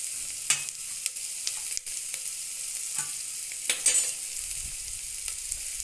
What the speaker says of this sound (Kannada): ಈರುಳ್ಳಿ ಚೆನ್ನಾಗಿ ಎಣ್ಣೆಗೆ ಫ್ರೈ ಆದ ತಕ್ಷಣ